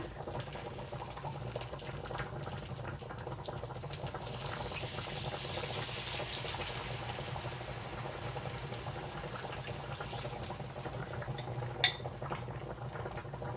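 Gravy sauce poured over hamburger patties bubbles and simmers softly in a pan, a quiet continuous sizzle and pop, with one brief clink near the end.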